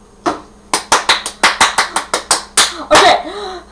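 A dozen sharp hand claps in a quick, slightly uneven run at close range during a home kitchen game show, ending with a brief excited voice.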